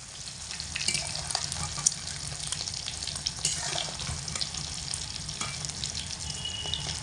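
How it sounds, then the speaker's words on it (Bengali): Egg pieces frying in oil over low to medium heat while being gently and continuously stirred, a steady crackling sizzle with scattered scraping and clinking from the utensil, fairly close. "অনবরত হালকা হাতে নাড়াচাড়া করে ডিমের পিসগুলোকে ভেজে নিতে হবে"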